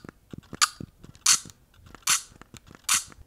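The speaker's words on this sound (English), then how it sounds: "if your electronic shutter is making fake camera noises" Fujifilm camera's electronic shutter playing its fake shutter sound: four short, crisp clicks spaced roughly evenly, close and fairly quiet, with small mechanical ticks between them and no talking.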